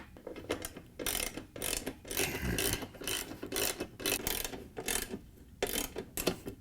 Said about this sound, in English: thread and tighten the 4 bolts that hold the chassis to the tub